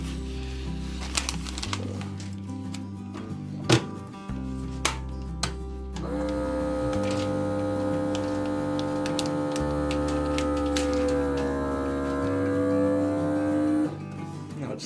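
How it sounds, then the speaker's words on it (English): A Food Saver vacuum sealer pulls air from a bag of deer sausage links, its pump humming steadily for about eight seconds with a slowly shifting pitch before cutting off, over soft background music and a few ticks. "So we're gonna vacuum seal it."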